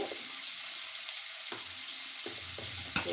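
Ingredients for horse gram chutney sizzle softly in a pan, a faint steady frying hiss with a few brief stirring scrapes and one sharp tap near the end, no voices.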